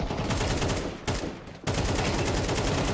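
Video-game gunfire in a pistol round of a competitive esports shooter match: dense, continuous rapid shots with a brief lull in the middle, loud and alone.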